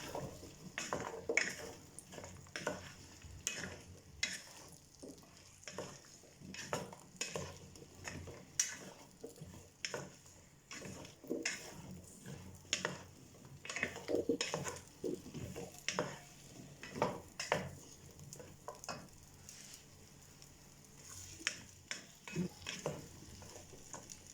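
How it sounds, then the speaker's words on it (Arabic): Chopped red pumpkin stirred in a cooking pot for soup, heard as steady close scraping and stirring with faint sizzling and occasional clinks against the pot, with no talk. "وغادا نضيف القرعه الحمراء اللي مغسوله مزيان ومقطعه صغير، وحتى هي نحركها مزيان."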